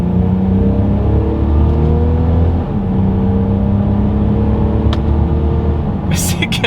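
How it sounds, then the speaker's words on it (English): A 2022 Mercedes-Benz GLC 300 Coupe in Sport Plus mode accelerates hard from a standstill, its engine droning loud and rising, with a brief dip at an early gear shift before the pitch climbs again. "we are in Sport Plus driving mode from a standstill in 3, 2, 1."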